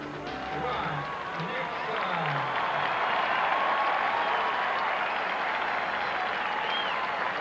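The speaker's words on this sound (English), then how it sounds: "a warm round of applause for Trot Nixon, the leadoff hitter in the home opener" A ballpark crowd at a Tampa Bay at Boston home opener applauds leadoff hitter Trot Nixon, a broad continuous roar of clapping and cheering that holds steady throughout, with a commentator talking over it.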